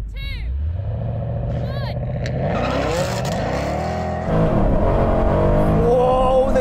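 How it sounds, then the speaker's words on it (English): A BMW M3 makes roughly 700 hp as it warms its tyres before a drag race, its engine idling and then rising into loud revs with tyre squeal. Excited voices talk over it throughout. "BMW, you can warm up your tyres a bit as well."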